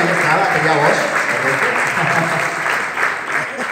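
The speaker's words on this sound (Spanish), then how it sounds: "¡Fuertes aplausos!" Dense audience applause at a theatre festival, a loud, steady wash of many clapping hands filling the whole stretch, with faint voices mixed underneath.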